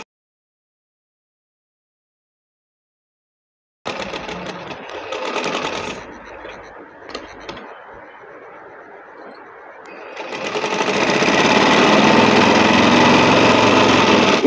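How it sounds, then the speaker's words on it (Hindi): An electric sewing machine stitching along a pressed fabric neckline, starting abruptly after silence with uneven buzzing runs, then a loud, steady high-speed whir close by, no talking. "जो मैंने प्रेस लगाई कपड़े पर, इस पर सिलाई लगा दूंगी इस तरह से।"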